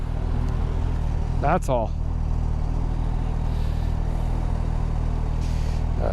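A Suzuki GSX-S1000GX motorcycle engine drones at a steady, low rumble while riding, with a rider's brief spoken remark and a quick chirp rising over the continuous engine noise.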